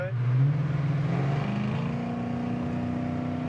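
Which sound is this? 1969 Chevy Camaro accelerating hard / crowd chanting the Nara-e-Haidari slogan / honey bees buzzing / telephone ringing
1969 Chevy Camaro accelerating hard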